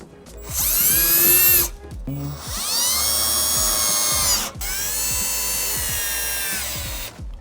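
A power drill drives factory screws into a speaker mount inside a Toyota 4Runner, with three long, close, high whirring bursts separated by short pauses, the motor pitch climbing as each run spins up.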